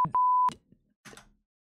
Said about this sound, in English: I could beep out myself there the whole time